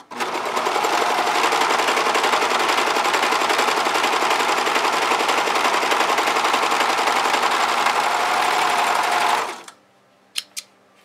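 A Brother 1034D serger stitches cotton and stretch fabric in one steady, loud, rapid mechanical whir for about nine seconds, then stops, followed by a couple of faint clicks.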